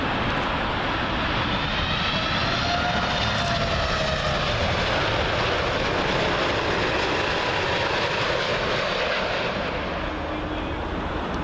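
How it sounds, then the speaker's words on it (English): WestJet Boeing 787 Dreamliner arriving at Heathrow, a loud, steady jet roar holding for the whole span with faint whining engine tones drifting overhead, and a voice talking beneath it. "next arrival in WestJet 787 Dreamliner"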